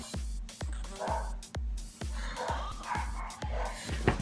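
Several dogs bark in a fairly regular series of about nine sharp barks at roughly half-second intervals, somewhat distant and muffled indoors, with no speech over them.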